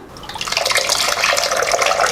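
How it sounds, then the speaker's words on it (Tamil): Tamarind water being poured into a fish curry masala, a close, splashing liquid stream with fluttering bubbling that builds and holds steady, with no voices. "இனிமேல் புளியும் கரைச்சி ஊற்றிடலாம்"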